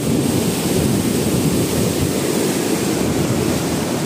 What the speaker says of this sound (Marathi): नांदूर मधमेश्वर धरणातून पाणी सोडलेलं आहे।